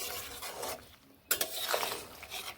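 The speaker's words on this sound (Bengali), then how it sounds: "এবার একটুখানি এইভাবে নেড়ে নিচ্ছি" A spoon stirs winter vegetables in a cooking pot, making soft scraping and clinking close by, with a sharp knock against the pot partway through; no talking.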